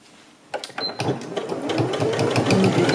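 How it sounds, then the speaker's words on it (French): Home sewing machine running a straight stitch along the edge of a fabric face mask, a steady close whirring hum that starts after a brief quiet moment and continues to the end. "Donc, point droit. On va coudre au bord."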